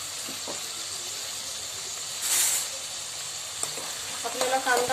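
Chopped onion drops into a hot pan and sizzles at a soft, steady level, with a burst of hiss partway through and light clinks of a utensil toward the end.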